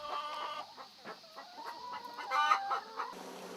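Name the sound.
chickens clucking on a farm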